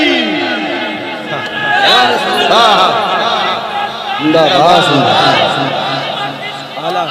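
A large crowd answers a takbir call at a religious gathering, voices surging together in loud, sustained chanting waves that rise and fall over several seconds.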